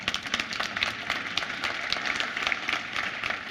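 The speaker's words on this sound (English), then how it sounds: "So Matthias, if you're watching, they're clapping for you." A conference audience in a tech talk hall clapping, a quiet, fairly distant patter of many hands with no voices over it.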